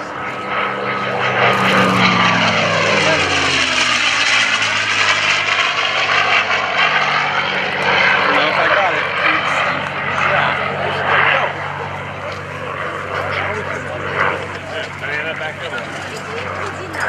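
A P-51D Mustang propeller plane roars past close by at an airshow, its engine drone rising and then fading away, with wind noise throughout.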